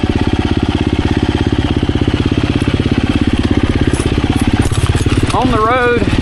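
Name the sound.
2024 KTM 350 EXC-F motorcycle engine riding on road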